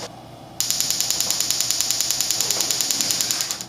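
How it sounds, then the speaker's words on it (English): An ignition coil (coil-on-plug) fires its spark across the gap of a spark tester as a rapid, steady train of sharp snapping ticks, about eight per second, beginning after a short quiet moment and running on evenly. "First, I'm going to try it as is and see how far the spark will jump."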